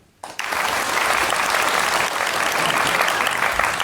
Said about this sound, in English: Clap twice as fast.